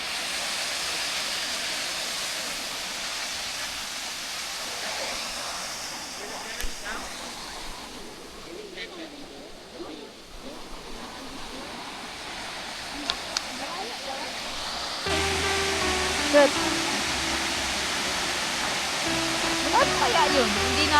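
Water rushes steadily over a lake dam in Queensland, Australia, a loud continuous roar that grows broader and louder in the later part, with a few faint knocks.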